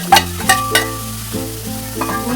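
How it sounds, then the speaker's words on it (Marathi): Jaggery is stirred in a hot pan as it melts for sesame laddoos, with close spoon scrapes and clinks over a low steady sizzle, and a few sharper stirring strokes near the start. "गूळ चांगला मेल्ट होईपर्यंत आपण हलवत राहायचं"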